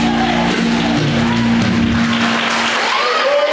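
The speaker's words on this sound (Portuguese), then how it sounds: "Aplauda o nome do teu Deus bem forte." A church congregation bursts into loud, sustained applause during a worship service, with held musical tones and faint shouts underneath.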